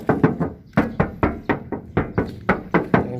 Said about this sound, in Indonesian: saya akan mengajak teman-teman untuk mengecek bodi mobil ini, karena saya akan mengetuk mobilnya